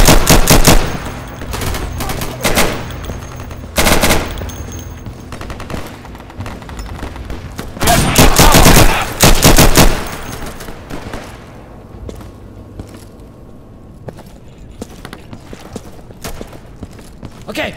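Gunfire in the video game Insurgency comes as loud rapid bursts of automatic fire with single sharp shots in between, then quieter distant cracks and footsteps, with speech mixed in.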